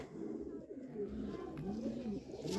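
Teddy pigeons coo in soft, rolling, repeated calls, several overlapping phrases in quick succession, close but quiet.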